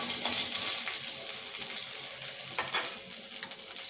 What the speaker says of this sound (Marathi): मेथीचे 4-5 दाणे, 2 लाल मिरच्या, हे व्यवस्थित तेलामध्ये फ्राय करून घ्यायचं.